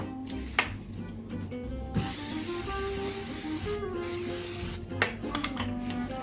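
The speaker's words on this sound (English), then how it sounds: "I'm going to spray it really good with the extra virgin olive oil." A steady hissing spray of extra virgin olive oil from an aerosol can into a baking dish, running in a few long bursts with short breaks and faint clicks between them.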